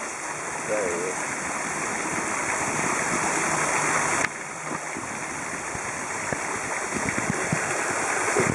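Water in a creek by a swimming hole where a fallen tree lies, a steady close rush and trickle running throughout at an even level, with a brief bump midway.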